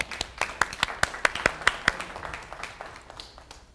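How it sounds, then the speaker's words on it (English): A small meeting audience gives a brief round of applause, a quick burst of individual sharp claps that thins out and fades within a few seconds. "Will you all give him a round of applause?"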